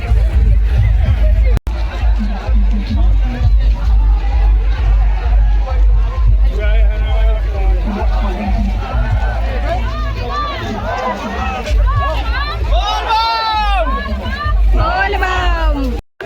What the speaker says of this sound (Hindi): इधर देखो काफी भीड़ बने हुए हैं सामने में